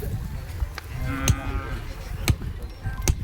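At the Pusegaon cattle market a calf gives a drawn-out moo, set among market bustle with sharp knocks and clatter nearby and a faint background murmur.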